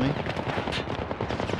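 Rapid automatic gunfire in the video game Syndicate, a dense, loud burst of close shots that fills the whole moment.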